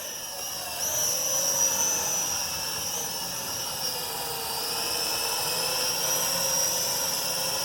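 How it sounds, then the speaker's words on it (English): A Venom Pro GPS streaming quadcopter drone hovers and flies in a park, its rotors producing a steady, high-pitched buzzing whine with shifting tones as it maneuvers nearby. "Quadcopters, drones."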